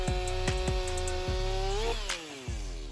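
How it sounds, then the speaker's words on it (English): A Stihl MS500i chainsaw cuts through a huge block of wood, its engine droning loud and close, with rhythmic pulses and a pitch that rises and falls as the chain bites. "The Steel MS500i is an advanced chainsaw designed to conquer huge blocks of wood"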